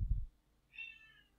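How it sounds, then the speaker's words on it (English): A cat gives a single short meow, faint and somewhat distant, following a brief low thump at the start, with no speech. "That's my cat."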